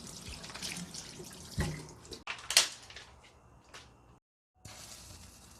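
Dashima kelp rinsed under running water in a kitchen, soft intermittent splashing and trickling with brief gaps, faint and close, no voices.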